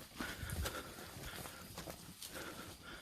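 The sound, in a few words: cattle hooves walking on a Himalayan jungle path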